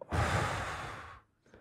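One deep, audible exhale during a group breathing exercise, a close breathy rush that fades out, followed by a faint second breath.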